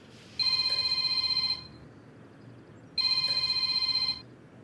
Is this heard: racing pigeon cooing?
no